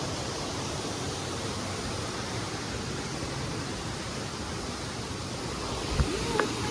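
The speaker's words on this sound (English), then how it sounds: "There's a waterfall right there." A waterfall heard from a bridge in a New York state park, giving a steady broadband rush of falling water that stays constant throughout, with a couple of brief faint knocks near the end.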